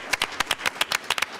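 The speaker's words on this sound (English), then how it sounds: "So a round of applause for our lovely students." A small school board meeting audience claps for students, with a sparse, uneven patter of individual claps carrying on steadily and fairly quietly.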